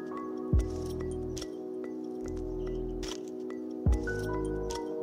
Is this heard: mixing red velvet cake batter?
yes